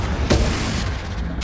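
Explosive Bombarda and Confringo spells going off in Hogwarts Legacy on PS5: a loud, booming, broadband blast with a rumbling tail fills the short moment, with no talking.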